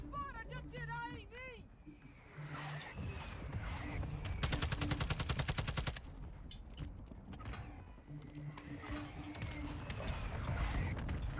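Video game gunfire with a dense rapid burst of automatic shots in the middle, surrounded by continuous game noise and a voice talking over the action.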